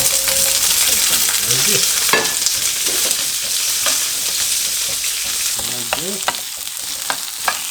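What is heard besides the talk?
asparagus sizzling in hot olive oil in a pan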